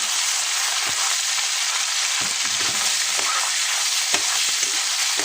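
Minced pork stir-frying in a pan after fried garlic is removed, a steady loud sizzle with scattered scraping taps from stirring throughout, no voices.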